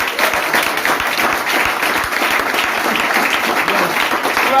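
A church congregation at a Sunday service claps steadily together, dense applause heard close and loud for a few seconds.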